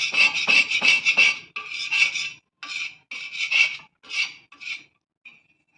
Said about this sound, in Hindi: इससे रगड़ रगड़ के भूजेंगी तो आपका आराम से भून जाएगा।